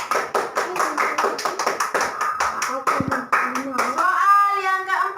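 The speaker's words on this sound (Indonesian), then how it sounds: "Tepuk tangan buat Habib." Classroom of pupils clapping for a classmate after a correct answer in a primary maths lesson, a quick run of sharp claps that gives way to children's voices and chatter toward the end.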